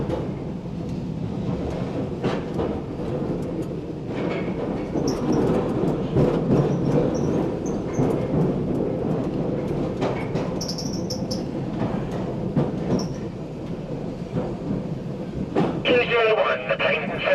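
A London Underground Bakerloo Line train rolls slowly over a crossover at about 15 mph into Lambeth North, giving steady rumbling wheel noise with faint squeals and clicks throughout.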